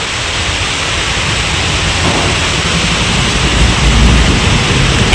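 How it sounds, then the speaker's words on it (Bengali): Heavy winter rain pours down as a loud, steady hiss that swells slightly toward the end, with no voices over it. "এখন কি জোরে বৃষ্টি পড়ছে।"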